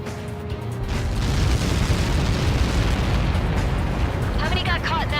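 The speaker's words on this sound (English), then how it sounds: "How many got caught in that explosion?" A large impact explosion from an incoming projectile strike produces a loud, sustained roar that rumbles steadily for about five seconds, with a faint high chirping creeping in near the end.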